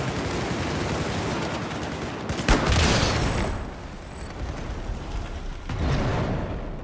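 Sustained rifle fire from the CZ-3A1 in Battlefield 4 on the Operation Locker map, dense rapid shots with a louder burst midway, continuous and close throughout.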